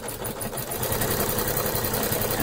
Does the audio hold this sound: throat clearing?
no